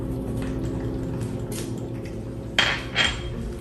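Fennel wedges are tossed with olive oil and salt in a bowl, with a low steady background hum and two sharp clinks of utensil against the bowl near the end.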